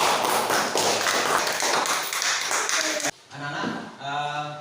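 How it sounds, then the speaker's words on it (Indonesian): A classroom group of students applauds the boys' group: dense, steady clapping from many hands, loud and close, breaking off abruptly before a voice speaks. "Kita kasih aplaus."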